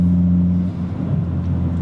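A BMW M240i engine idles with a deep, steady exhaust drone, a close low rumble holding constant with a slight swell midway.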